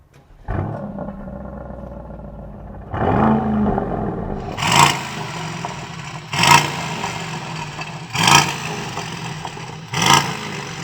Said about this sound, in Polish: Posłuchajmy teraz, jak brzmią silniki tych samochodów w czasie postoju.